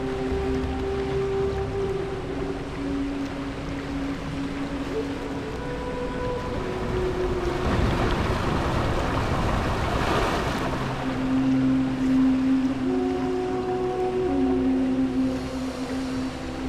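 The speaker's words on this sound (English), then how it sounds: "So you can probably hear the jungle sounds that I've incorporated." Jungle ambience plays from speakers hidden around a ride near a waterfall in the video game Planet Coaster, a soft, continuous bed of sustained tones and calls, swelling to a louder rush midway.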